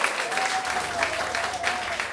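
Applause from a live band audience in a small venue, a steady bed of many hands clapping at moderate level for a couple of seconds, with a faint sustained tone running underneath.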